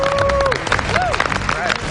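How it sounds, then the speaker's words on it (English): Audience round of applause, dense clapping with crowd noise and cheering throughout, loud and continuous, with voices talking over it. "Give yourselves a round of applause."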